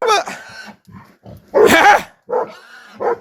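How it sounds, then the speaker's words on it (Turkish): Dogs confront a wild boar that is trying to attack goats in rural Kahramanmaraş, barking and growling loudly at close range in several sharp bursts, with grunting and squealing mixed in. "Videoda köpeklerin domuzun üzerine cesaretle giderek sürüye yaklaşmasını engellediği anlar kaydedildi."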